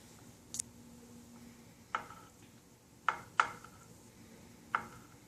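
A knife cuts through a pan of microwave caramel, producing five sparse, crisp taps spaced a second or so apart in a quiet room.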